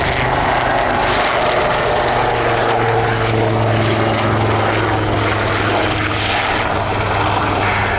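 Two Royal Navy Wildcat HMA2 military helicopters roar loudly and continuously overhead at an air display, a dense rotor and engine drone filling the whole stretch without a break.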